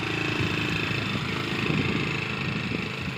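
A motorcycle engine idles with a steady low rumble on a sandy riverside track, constant and fairly close with no speech over it.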